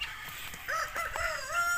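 Backyard chickens clucking and a rooster crowing in short bursts, a few overlapping calls that come in after a brief quiet start and carry on at moderate volume with no talk.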